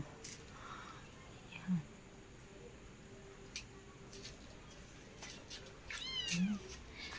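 Two small kittens sheltered from coming rain give two brief, faint meows several seconds apart against a quiet background hum.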